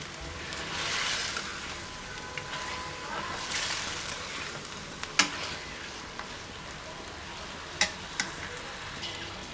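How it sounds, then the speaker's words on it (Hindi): Chicken fries in a pan for white qorma, a continuous crackling sizzle punctuated by a few sharp pops and stirring clicks. "इसको 10-15 मिनट अच्छी तरह भूनेंगे, या आपकी मर्ज़ी है तो ढक कर इसको पकाएं।"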